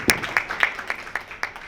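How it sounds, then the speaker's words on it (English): A small audience at a book signing for costume designer Ruth E. Carter claps in a short, sparse round of about eight distinct claps. The claps are close and spaced out, never building into full applause. "Y'all can clap."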